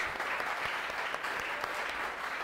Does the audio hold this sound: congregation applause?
yes